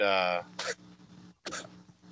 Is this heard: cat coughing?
yes